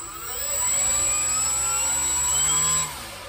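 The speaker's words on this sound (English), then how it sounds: "I'll run up the motor a little bit for you here" Electric motor and propeller of a D W Hobbies Storch RC model plane winding up to a steady high whine for a few seconds, then dropping off as the throttle cuts, heard up close without talk.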